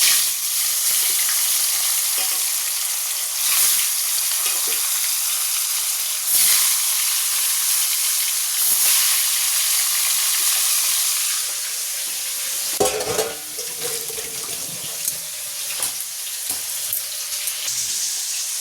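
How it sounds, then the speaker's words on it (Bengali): Fish drops into hot oil in a wok and sends up a loud, continuous hissing sizzle with crackling spatter, then a clatter of stirring partway through before the frying settles to a slightly softer fizz. "কড়াই তেল গরম হয়ে গেছে, এবার মাছগুলো দিয়ে দেবো"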